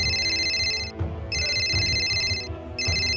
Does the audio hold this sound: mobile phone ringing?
yes